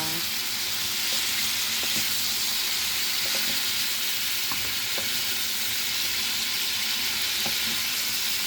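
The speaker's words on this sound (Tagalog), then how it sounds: "Nagisa ako ng bacon langga." Bacon sautéing in a pan gives a steady, close sizzle that runs unbroken throughout, with occasional light clicks and pops scattered through the hiss.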